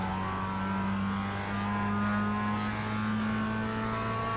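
A Mazda MX-5 accelerates out of a corner on a track, its engine holding a loud, steady tone that climbs gently with no gear changes.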